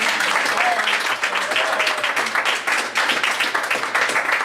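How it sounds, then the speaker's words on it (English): A large audience gives a loud, sustained round of applause, many hands clapping densely and continuously, with faint voices mixed in underneath. "let's give these folks a big round of applause"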